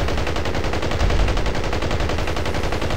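Rapid automatic gunfire from several weapons in the video game Battlefield Heroes, a dense, loud, continuous stream of shots with no talking.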